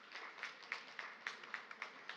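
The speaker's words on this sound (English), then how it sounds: "I invite you to give them a round of applause" Assembly delegates at an international parliamentary session applaud in a large hall, with scattered, distinct claps that stay faint and distant, falling into a loose, fairly even pattern.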